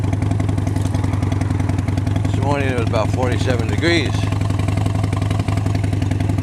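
A motorcycle engine drones steadily while riding to work on a cool morning, a loud, even mechanical hum running throughout as someone talks over it.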